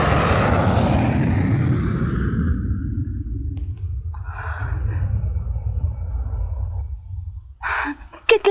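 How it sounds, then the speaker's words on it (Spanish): Propeller airplane passing overhead, a loud droning roar that fades and recedes into a lingering low rumble, with brief faint voices near the end. "Eso no es ningún ave, es un avión."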